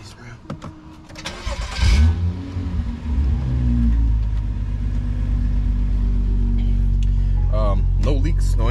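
BMW F10 with a new intercooler and boost pipes and a stage 2+ tune, heard as the engine cranks and fires, then settles into a loud, steady, deep idle rumble after a brief rev.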